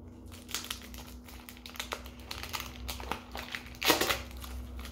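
A mail package is torn open by hand without scissors, with close, irregular bursts of crinkling and ripping paper or plastic and a sharper tear near the end.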